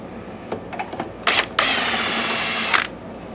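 A screw being backed out of a BenQ W6000 DLP projector with a power tool: a brief whir, then a longer steady loud mechanical whirring for about a second, after a few faint clicks.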